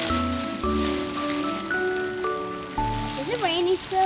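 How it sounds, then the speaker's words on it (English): Rain falls outdoors in a backyard during yard work, a steady soft hiss running throughout beneath louder tonal sounds that rise and fall over it. "Is it rainy still?"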